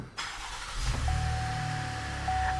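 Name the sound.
Chevrolet Traverse engine starting with push button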